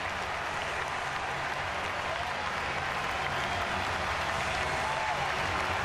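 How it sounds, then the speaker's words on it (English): A baseball crowd at Fenway Park during a Cubs at Red Sox game applauds a base hit, a steady, dense wash of clapping and crowd noise throughout. "I think some people are applauding the base hit by Drew"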